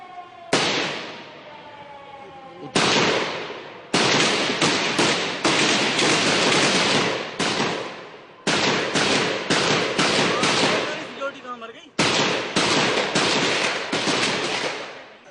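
Archival footage of gunfire during the terrorist attack on the Indian Parliament: loud sharp bursts of shots in repeated volleys, each cutting in suddenly and ringing on, with rapid strings of cracks close together.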